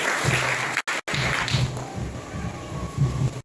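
Church congregation applauding during a worship service, a continuous wash of clapping with a couple of sharp breaks, then ongoing applause and faint voices underneath.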